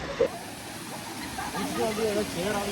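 Low water trickling and flowing at Kodiveri dam, a soft continuous rushing wash in the background, with a few faint bird-like chirps over it.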